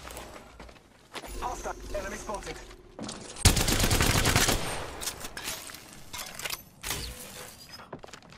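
Gunfire in the Apex Legends battle game comes as a loud, dense burst of automatic shots in the middle, with scattered quieter shots, game effects and voices around it.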